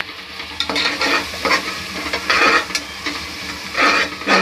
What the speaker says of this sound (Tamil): நல்லா வதக்கட்டும்.